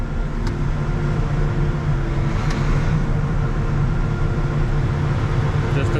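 A combine harvester running steadily after its concaves are opened, a continuous loud low engine and machinery rumble with no break.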